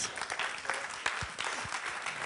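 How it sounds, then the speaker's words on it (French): An audience applauds a speaker named Jen at the close of a bilingual French-English business talk, a short burst of clapping at moderate volume with a few sharper individual claps standing out. "On l'applaudit très très fort."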